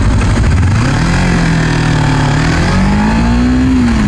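Kawasaki Z300 motorcycle, a 300 cc twin, pulling away from a red light, its engine note rising steadily as it accelerates, loud and close against steady wind rush, with no talking.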